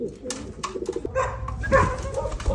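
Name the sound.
racing pigeons cooing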